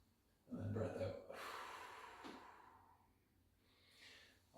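A long, audible exhale during a slow full-body stretching routine, loud at first and then tapering off, with a softer breath near the end.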